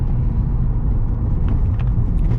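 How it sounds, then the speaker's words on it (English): A 2011 Honda Accord EX-L with 200,000 miles driving over a bumpy road, heard from inside the cabin as a loud, steady low rumble of road and engine with a few faint knocks and thumps. "This is our bumpy road test right here."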